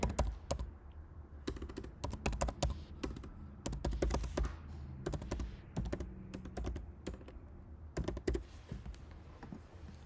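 An email address is typed on a computer keyboard in quick bursts of crisp, close key clacks with short pauses between runs and a few heavier thunks, with no voice.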